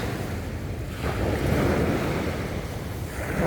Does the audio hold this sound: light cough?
no